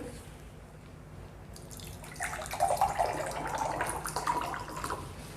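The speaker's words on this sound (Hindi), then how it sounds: "एक में हम दे रहे हैं आरओ का पानी" RO-filtered water poured into a glass, a rising splashing, gurgling stream that starts after a quiet moment and continues steadily near at hand.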